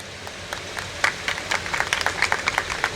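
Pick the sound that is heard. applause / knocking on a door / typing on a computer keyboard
applause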